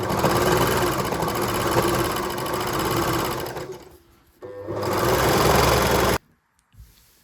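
A serger overlock machine stitching jersey knit fabric for a draped top, a fast loud mechanical whir running steadily, pausing briefly, then resuming before stopping abruptly.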